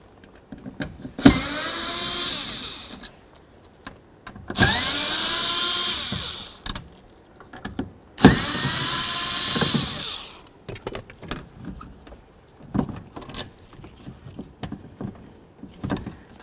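A power tool removes the window regulator motor from a 2006-2012 Ford Fusion door, running in three loud bursts of a few seconds each, separated by pauses, with softer clicks and handling knocks afterward.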